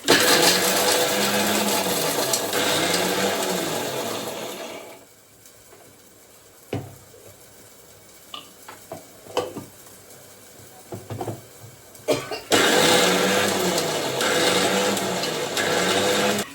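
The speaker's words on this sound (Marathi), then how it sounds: "आता हे सगळं मी वाटण करून घेते" A mixer grinder crushes a coarse spice paste of peanuts and coriander, whirring loudly for several seconds, going quiet with a few knocks and clinks, then roaring again.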